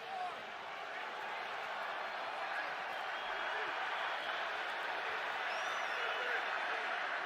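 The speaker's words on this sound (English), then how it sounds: "Crowd's starting to come alive a little bit." Stadium crowd at a San Francisco 49ers home game against the New York Giants in the third quarter, a broad steady roar of cheering and murmur that swells slightly, continuous and distant-sounding throughout.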